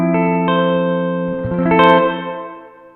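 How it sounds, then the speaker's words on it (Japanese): Guitar tones ring through a Strymon BlueSky reverb pedal on its normal plate setting, with a couple of plucked attacks and a brighter swell that blooms and then decays smoothly into a lingering reverb tail. "比較のためにノーマルのプレートに一旦また戻して音を鳴らしてみます"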